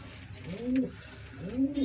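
Two soft, rounded coos from a white pigeon sound in succession, each a low warbling call, close by against a faint background hum.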